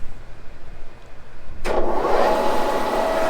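A Wohlhaupter UK4 rotary taper milling head is put into gear and spins up to a couple hundred RPM, a low machine hum that switches sharply into a louder, steady whirring drone.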